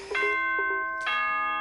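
Ding-dong chime announcement from the Danganronpa video game: two clear electronic bell tones, the first struck twice and a second chime about a second later, ringing on alone with no talk.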